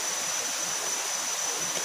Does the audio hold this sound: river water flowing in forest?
yes